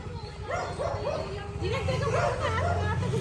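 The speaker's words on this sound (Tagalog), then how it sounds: "yan yung mga kalaban na aso ni Nala." Dogs bark and yip repeatedly, fairly close, in short bursts over a low background hum.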